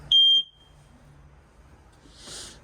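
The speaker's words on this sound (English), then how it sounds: "It does have a smoke detector in here that'll drive you crazy." A single sharp, high-pitched electronic chirp from a smoke detector inside a Salem Cruise Lite travel trailer, loud and brief, then a quiet room with a faint rustle near the end.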